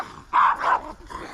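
Two small puppies barking on a walk in Harwood Forest, a couple of sharp close yaps followed by a fainter yip.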